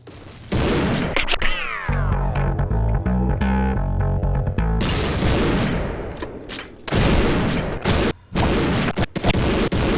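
Sawn-off shotgun fire in the video game Postal 2: loud, close booming blasts come in quick clusters, with a dense burst early on and more heavy shots toward the end.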